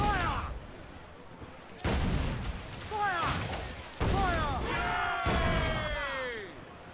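Ship cannons in Assassin's Creed Black Flag fire in a naval battle: four heavy, sharp blasts spaced a second or so apart. Loud shouting voices ring out between and over the shots.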